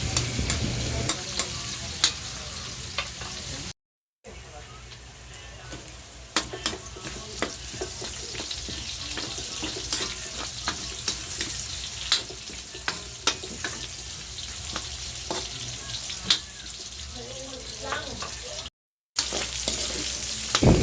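Pansit bihon guisado sautés in a pan with a constant sizzle and frequent scraping, clicking strokes of a utensil stirring, steady and close apart from two brief silent breaks.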